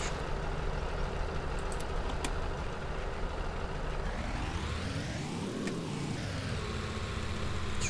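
A truck in the video game A Dusty Trip labours over bumpy ground, its engine droning steadily before the pitch swells up and falls back as it revs and strains, with a steady background hum.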